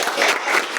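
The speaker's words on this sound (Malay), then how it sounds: "Bagi tepukan untuk Nasib." A brief burst of classroom applause for a student, a quick patter of many hands clapping close by.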